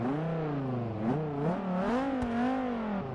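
Dodge Viper in Forza Motorsport 6 revving after starting up, a loud close engine tone that climbs, dips and rises again in pitch over a few seconds, with no talking.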